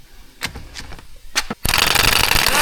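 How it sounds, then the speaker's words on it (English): Pneumatic impact wrench rated to 1700 Nm, running on a car axle nut during a KONI suspension install on a Mk4 Golf R32: a few short knocks, then a loud, sustained rattling hammer burst close by. "So this here is a pneumatic impact. It is rated to 1700 Newton meters."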